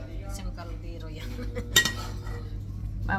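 Cooking pot and metal utensils clank together in a brief sharp clatter, one louder knock standing out over a low steady hum and faint background voices.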